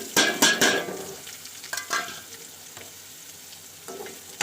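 Chopped onions fry in hot oil for a Tamil egg poriyal, a soft sizzle under several loud scraping stirs of a spoon against the pan, with the stirring bursts clustered early and then sparser.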